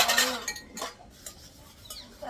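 Pots and dishes being scrubbed by hand, a few soft metallic clinks and scraping knocks, faint and close, with no talking.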